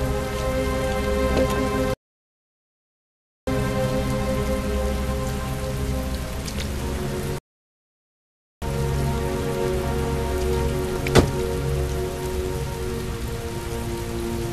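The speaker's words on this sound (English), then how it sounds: "Heavy rain. It's been the same for weeks." Heavy rain falls steadily in a dense, continuous patter, loud and close, broken by two short silent gaps, with no voices.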